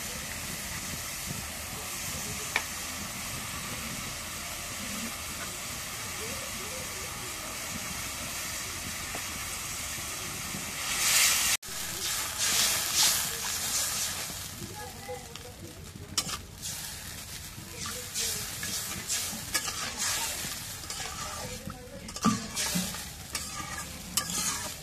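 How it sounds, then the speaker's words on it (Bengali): Spice paste of ginger, cumin, garlic and garam masala frying in a pan: a steady close hiss and sizzle, later broken by stirring scrapes and brief clatter, with a bit of talking in the background. "এখন মশলাটা কষানি হচ্ছে"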